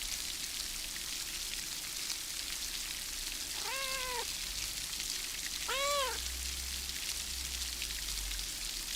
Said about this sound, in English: And that was petting a cat.